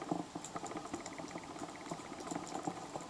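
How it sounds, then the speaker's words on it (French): Faint, irregular crackling and ticking from fish underwater on a spearfishing dive, a steady scatter of small clicks over a low bubbling, murmuring background with no voices. "vous entendrez des petits crépitements. Ça, c'est le bruit des poissons."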